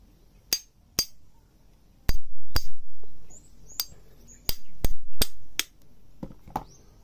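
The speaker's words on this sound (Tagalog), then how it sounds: "Kaya martilyo" Sharp metallic hammer strikes ring out on a grass cutter head gearbox part, about a dozen irregular blows, close and loud, with quiet pauses between.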